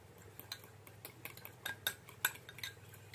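A spoon stirs a flour and water slurry in a bowl, giving a quick run of light clinks and scrapes against the sides. The strokes come close and fairly quiet, with no voices.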